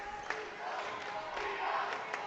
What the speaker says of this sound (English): Crowd urging them, trying to get up for this team.